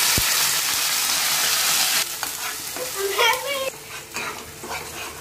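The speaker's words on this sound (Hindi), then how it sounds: "अब इसे हम अपने गर्म तेल में मसालों के साथ अच्छे से भूनेंगे।" Onion paste fries with spices in hot oil, with a loud continuous sizzle for two seconds, then quieter frying broken by spoon scrapes and stirring clatter.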